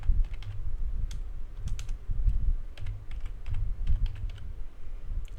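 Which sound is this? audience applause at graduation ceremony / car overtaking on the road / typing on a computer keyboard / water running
typing on a computer keyboard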